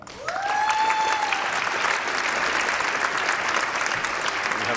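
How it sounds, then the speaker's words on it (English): A crowd at a University of Manchester graduation ceremony breaks into sustained applause, a dense, steady clapping that fills the hall for several seconds, with a brief tone heard at the start. "You have a hand clap."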